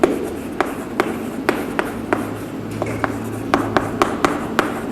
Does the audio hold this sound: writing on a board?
yes